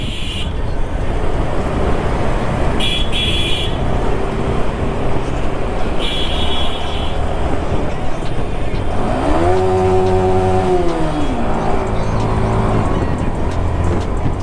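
A Yamaha R15 V4 motorcycle engine with stock exhaust rumbles steadily inside a small echoing tunnel, revving up and down midway with a rising and falling drone.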